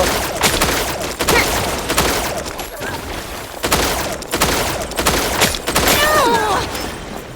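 Rapid bursts of gunfire from the online shooter T3 Arena come in loud volleys separated by short pauses, with game effects mixed in.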